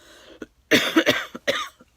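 A few harsh, close coughs come in a quick cluster, rough and throaty, with no talking.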